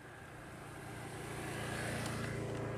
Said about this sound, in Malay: Jalan utama, jalan highway yang penuh dengan kereta.